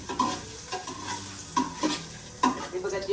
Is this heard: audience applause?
no